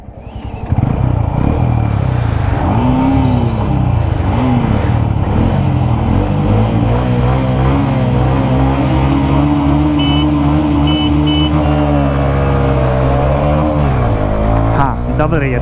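A Honda CB 125 Hornet motorcycle accelerates hard in a performance test, its engine droning loud and close with rising pitch through gear changes, while someone talks over it.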